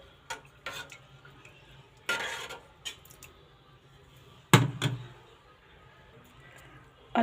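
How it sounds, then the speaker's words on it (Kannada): A spoon stirs tomato and turmeric into moong dal in a pan, producing sparse close scrapes and knocks against the metal, with one sharp clatter partway through and quiet stretches between. "ನೀಟಾಗಿ ಮಿಕ್ಸ್ ಮಾಡ್ಕೋಬೇಕು"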